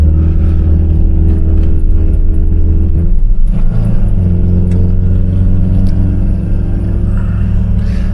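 A Mk3 Ford Cortina climbs Hawkshead Hill at dusk, its engine revving loud and close as it drops to second and shifts back up to third, the pitch surging and dipping with each gear change.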